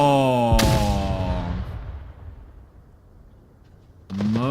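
A grenade blasts in a video game, one sharp close explosion whose rumble trails off over a few seconds before another loud burst starts at the end.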